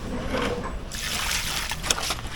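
Water trickles and splashes onto tomato plants in a backyard farm garden in Kingstown, a steady close wash of running water over about two seconds with no talk.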